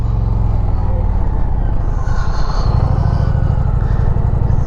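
An Indian Challenger motorcycle engine running while riding, a loud, continuous low rumble with a steady pulsing throb throughout and a faint whooshing layer above.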